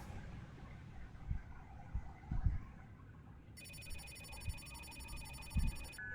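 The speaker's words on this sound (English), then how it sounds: "That's a phone." A telephone rings in the video game Reverse:1999: a steady electronic trill begins partway through and carries on over a low, rumbling ambient game backdrop.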